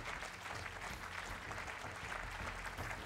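Faint, continuous clapping from an audience at an awards ceremony for property and facility managers, a steady patter heard from a distance without a clear start or end.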